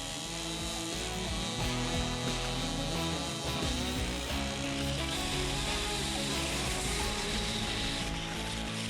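A chainsaw or mill saw cuts a black locust log lengthwise into boards, a steady loud droning whine running continuously with no pauses and no voices.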